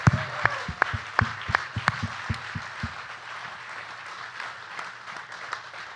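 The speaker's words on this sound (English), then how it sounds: "Give him a big round of applause." Applause for broadcaster Mitch Holthus at a live Chiefs podcast event: a few sharp, close claps ring out first, then a softer, scattered round of clapping from the crowd fades and thins.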